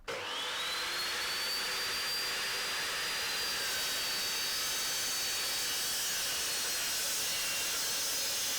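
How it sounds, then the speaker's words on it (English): Metal chop saw cutting aluminum table legs, a loud sustained high-pitched screeching whine close by that starts abruptly and holds steady without letup, no talking. "To cut the aluminum legs, I used my metal chop saw."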